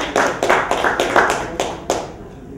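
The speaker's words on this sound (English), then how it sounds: "So give her a big round of applause" Applause at a charity luncheon held at the Friars Club, a small group's clapping with distinct claps at a steady rhythm, close and fairly loud, tapering off at the end.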